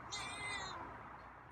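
A feral cat named Scruffy gives a single soft, drawn-out meow, faint and close, followed by quiet.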